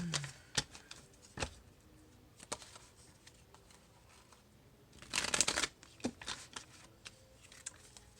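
Tarot cards being shuffled by hand, a run of crisp riffling snaps and flicks close to the microphone, with one longer dense burst of riffling in the middle.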